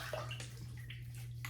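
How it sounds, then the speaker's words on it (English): Tap water runs steadily from a bathroom sink faucet, a soft continuous splash and trickle over a low electrical hum, with no voices. "add some water to the face from the sink"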